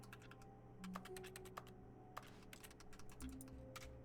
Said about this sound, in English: Why does it make keyboard sounds when I'm not at the keyboard?